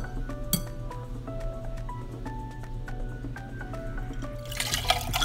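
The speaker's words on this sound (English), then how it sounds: "you're just gonna stir, well, whisk and whisk and whisk and whisk some more" A whisk clinks steadily against a glass bowl while gelatin is mixed with ice-cold water for a cherry jello pie, giving quick light taps and a faint rattle of ice, near and without talk.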